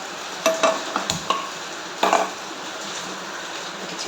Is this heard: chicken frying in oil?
yes